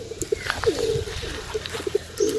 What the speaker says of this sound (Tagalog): Ang gandang ibon mga kalapatids